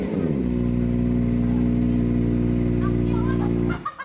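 A motorcycle engine running loud and close, holding a steady throbbing drone with a slight rise in revs before cutting off abruptly near the end.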